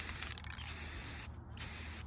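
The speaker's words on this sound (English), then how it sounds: "So I'm going to spray the whole thing." Spray paint can releasing gold paint onto glass outdoors in windy, cold weather: a steady close hiss running continuously, breaking off briefly near the end and then resuming.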